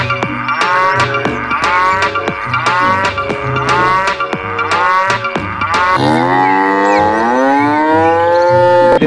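Cows lowing repeatedly, loud and close, a series of long drawn-out moos with a deep tonal bellow, heard alone against a faint rhythmic backing.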